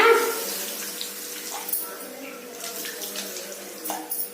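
Tamarind water poured into a pot of fish curry makes a steady liquid splashing and trickling sound for a few seconds, fairly close and continuous, with faint soft clatter near the end.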